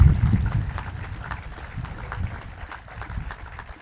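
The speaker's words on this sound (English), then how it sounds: "give a great round of applause to the Tiger Squadron for that great flyover this morning" An outdoor audience at a birthday celebration claps for a squadron of aircraft after a flyover, the applause strongest at the start and then thinning to scattered, fairly quiet clapping.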